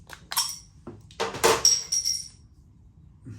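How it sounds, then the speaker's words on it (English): A Huskie Tuta Black IPA craft beer bottle is opened and poured into a glass, giving a few bright glassy clinks followed by a short splashy pour, close and alone. "let me get this beer out into a glass"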